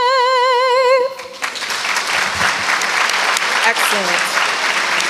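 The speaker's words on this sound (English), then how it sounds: "thank you for the round of applause" An audience at a National Crime Victims' Rights Week ceremony breaks into loud, sustained applause right after a sung anthem's final note, and a voice speaks briefly over the clapping.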